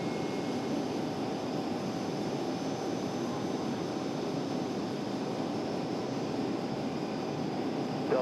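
An Endeavor Air jet arriving at RDU airport, heard as a steady, broad, continuous engine roar holding even loudness throughout, distant-to-moderate and unbroken, with no voices.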